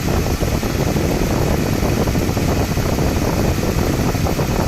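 A Mercedes-Benz S280 engine idles steadily with a constant broadband whir of the air conditioning running over it, loud and unbroken.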